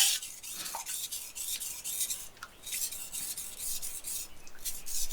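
A knife blade rasps steadily along a whetstone under added pressure, a close, continuous gritty scraping in repeated strokes with brief pauses between passes.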